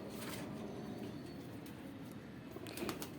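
Rampuri pigeons cooing softly and indistinctly in a low, continuous murmur, with faint background rustle and a few brief clicks, and no voices.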